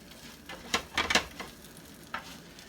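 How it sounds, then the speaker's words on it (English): Peanut butter and jelly French toast with a chocolate cereal coating fries in a pan, giving a faint, soft sizzle broken by a few sharp crackles and stirring scrapes. "And it's frying up real nice."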